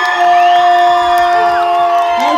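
Crowd at a neighbourhood street festival in Steilshoop cheering and whooping for a live band, loud and close, with sustained musical tones ringing underneath throughout.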